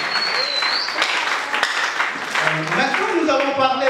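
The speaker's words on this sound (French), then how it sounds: "On acclame encore." A church congregation at a Wednesday worship service applauds, a dense, steady wash of clapping mixed with voices and cheering throughout.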